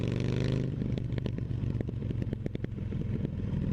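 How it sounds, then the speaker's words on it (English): A small motorcycle engine revs then settles into a rough, rattly putter with clattering pulses, close and continuous. "Obviously it's a smaller cc bike, so it's a different sound altogether, regardless of exhaust."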